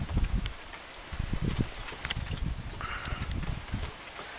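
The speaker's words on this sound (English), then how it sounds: "It's still raining." Rain keeps falling after a night of nasty storms with high winds and flooding, a steady broadband hiss with scattered close patters and drips, with no voices.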